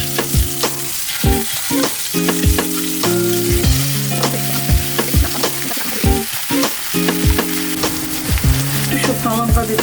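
Poppy seed paste hitting hot oil in a frying pan for a Bengali potol paneer aloo posto, a loud dense sizzle running throughout with sharp utensil clinks and scrapes, close up, no talking.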